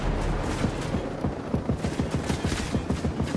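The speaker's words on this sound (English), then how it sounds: "Incoming sniper fire!" Rapid volleys of gunfire in Tom Clancy's Ghost Recon Breakpoint, sharp repeated cracks in a steady, dense rhythm, loud and close, with no talking.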